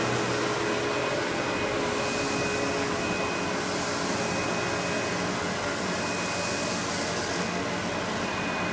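An Amway CMS 1000 Clear Trak cyclonic vacuum cleaner runs with a steady, loud motor whine and airy rush, unchanging throughout with no talk.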